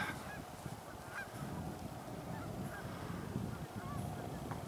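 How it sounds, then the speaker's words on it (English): Several hundred geese honking together in a continuous chorus, with scattered calls over a steady low rumble of wind or water, moderately distant, in Lethbridge at Christmas. "there are probably a few hundred geese"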